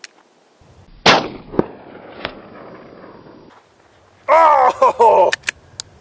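A Marlin XT-22 rifle firing at a steel plate about 288 yards away, one sharp close crack followed by a couple of fainter pops, then someone speaking briefly.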